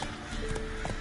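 Geralt's horse Roach gallops in The Witcher video game, with a brief run of hoofbeats over a dense, noisy game background.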